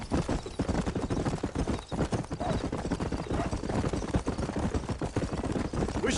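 A horse gallops at full speed in the video game Red Dead Redemption, a loud, close, continuous pounding of hooves with a faint whinny, no voices heard.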